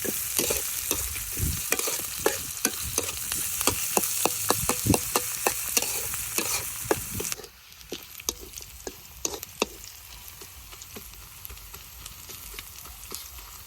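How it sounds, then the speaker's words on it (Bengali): Chopped onion, crushed garlic and garam masala sizzle loudly in hot oil while a spatula scrapes and stirs in steady strokes. The sizzle drops sharply partway through, leaving quieter frying and occasional stirring taps. "পেঁয়াজ রসুন গুলো ভালোভাবে ভেজে নেই"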